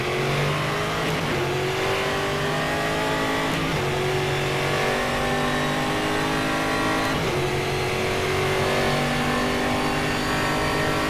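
Stock car engines racing in the video game StockCar 2013, loud and constant, with repeated rising revs cut short by gear shifts, and no talking over them.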